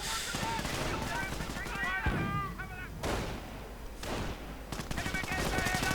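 A commando guarding a mortar opens up with sustained machine gun fire in a strategy video game. The steady bursts carry on across the whole stretch beneath a commentator's continuous talk.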